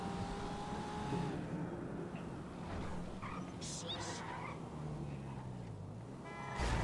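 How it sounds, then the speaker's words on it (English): A car engine drones and revs continuously, close and steady, with the rising pitch of acceleration from a video game. "Who's flying around in a car?"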